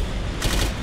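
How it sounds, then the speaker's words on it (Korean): A short burst of automatic gunfire from the PC shooter game Clive Barker's Jericho, a quick rattling volley over a steady game background with no voices. "이게 총소리입니다."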